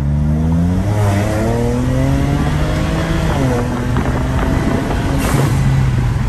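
A stock-turbo BMW N54 car on a full bolt-on setup running an E40 blend revs hard and accelerates, its engine note climbing in loud, continuous sweeps with no voices over it.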